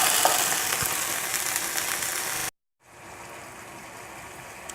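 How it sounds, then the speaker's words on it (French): Eggplant pieces dropped into a pan of browning, nearly scorching gombo sauce give a loud, dense sizzle for a couple of seconds, then a brief gap and a quieter, steady frying hiss. "j'ajoute mes aubergines pour vous permettre assez que ça puisse cuire"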